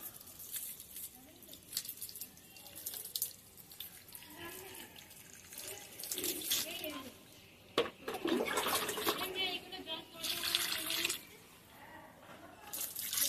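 Water pours from above onto a potted dragon fruit plant, splashing and trickling in uneven bursts with short pauses, fairly close and moderately loud.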